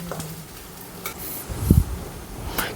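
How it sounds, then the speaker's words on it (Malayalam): Onion, garlic and curry leaves fry in coconut oil with a low sizzle as a spoon stirs them, scraping briefly and thudding once near the middle. "അതിൽ ഉള്ളിയും വെളുത്തുള്ളിയൊക്കെ ഇട്ടു കറിവേപ്പില ഇട്ടു നന്നായിട്ട് ഇളക്കാം"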